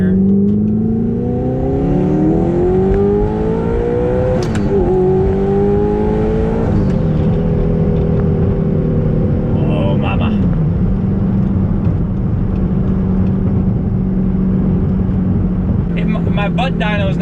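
A twin turbo, rear-wheel-drive Audi R8 pulls hard in second gear, its engine note climbing steadily and loud from inside the cabin before dropping as the driver lifts, then settling into a steady drone, with turbo whoosh and talk underneath.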